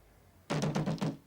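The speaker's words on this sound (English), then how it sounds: "There's a loud knock on the door." Loud knocking on a door, about four to five firm raps in quick, slightly uneven succession, close and alone after a quiet moment.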